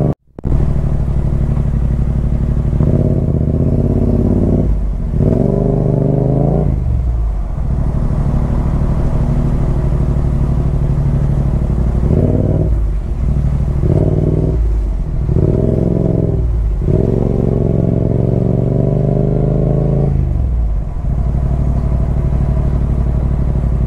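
A motorcycle with an aftermarket exhaust revving hard on a village road, loud and close, the engine rising and falling in several bursts of throttle over a constant idle rumble.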